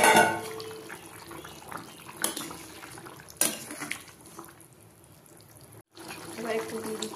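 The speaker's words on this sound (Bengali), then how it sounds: "এবারে দিয়ে দিচ্ছি গরম জল।" Hot water is poured into a pot of boiled potatoes and cauliflower for a curry. A quiet, steady stream of splashing liquid runs through, with a couple of sharp clinks against the pot and a brief break near the end.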